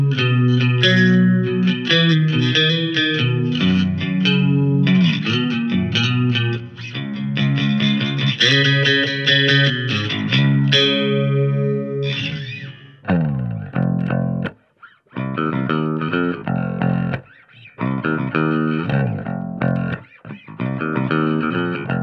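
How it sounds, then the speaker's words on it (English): A bass guitar runs through a small Fender bass amp with a chorus effect, giving a shimmering, slightly distorted tone as busy riffs play loud and close, then break into choppy phrases with short silent gaps. "Chorus basses sound fantastic"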